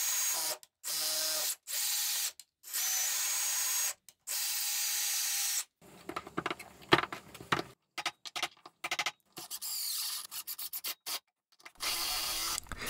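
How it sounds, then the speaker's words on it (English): Metal tap cutting threads into holes in a hardwood workbench chop, heard as a close rasping, grinding scrape in repeated bursts broken by short pauses as the tap is turned and backed out. "I tapped threads into these holes this time rather than just drive the screws in"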